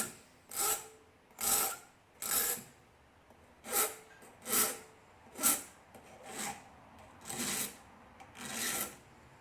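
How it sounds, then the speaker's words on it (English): Rhythmic rasping of a mini file shaping a small hook for a miniature escape set, about ten distinct strokes in an irregular back-and-forth pattern, close and clear with no talking. "so you can use the mini files for shaping."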